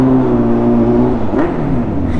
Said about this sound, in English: Should we do a noise check? Quick rev bomb.